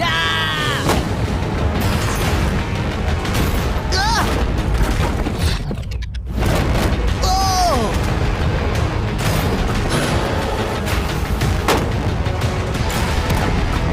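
Rapid, loud gunfire pounding a shipping container with booming impacts and metallic ricochet whines, dense and continuous, with people shouting and talking excitedly over it.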